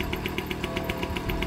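Romet Ogar 200 motorcycle running with a drilled-out silencer that makes its exhaust a bit louder, giving a steady, rapid two-stroke putter with even pulses, close and fairly loud, no talk over it.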